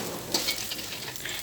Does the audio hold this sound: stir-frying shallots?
yes